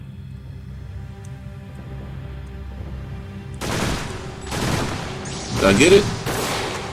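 Gunfire rings out in a PlayStation demo video game: several sharp shots come in bursts after a quiet stretch, loud and close, with someone speaking briefly between them.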